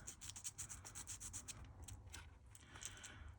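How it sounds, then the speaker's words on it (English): Emery cloth rubs the wheel contacts of a Hornby OO gauge BR J83 Class model locomotive, making faint, close, rapid scratchy strokes in a steady rhythm that soften into quieter rubbing. "I'm just going to run a little bit of emery cloth on where the contacts lie"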